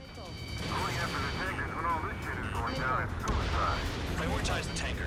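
Missiles launch and explosions rumble in Ace Combat 7 aerial combat, with dense, continuous booms and jet roar under radio chatter and a player's talk.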